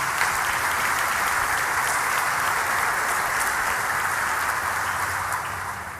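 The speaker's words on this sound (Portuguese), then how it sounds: "Vamos aplaudir esse testemunho maravilhoso." Applause from a church audience for a testimony, a dense, even wash of many hands clapping throughout, loud and steady before tapering slightly at the end.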